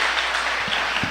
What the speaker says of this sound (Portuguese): Aplauda Jesus de novo, porque só Ele merece.